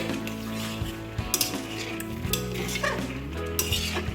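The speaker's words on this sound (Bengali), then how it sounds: "এবার মিশিয়ে নেবো ভালো করে।" A spoon stirs taki fish and radish curry in a pot, making soft scraping swirls with a few light clinks against the metal, close up over a steady low background hum.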